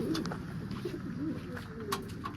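Pigeons eating maize grain give soft low coos close by, a few short repeated calls over a quiet background with faint chirps above.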